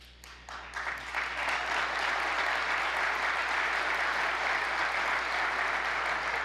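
An audience at a 2015 State of the State address breaks into loud applause that quickly swells into a dense, sustained roar of clapping.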